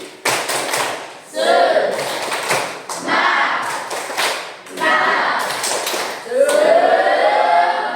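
A classroom of students in a coding and artificial intelligence lesson does a rhythmic morning-spirit clap, loud bursts of sharp group claps in patterned sets with short pauses between them, and voices chant along.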